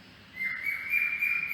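Small birds singing outdoors, heard as a single clear sustained whistled note that rises slightly and holds for about a second, fairly soft and alone without voices.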